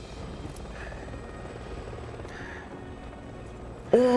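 Helicopter rotor drone in Resident Evil 6, a steady whirring roar throughout, with a voice cutting in sharply at the very end.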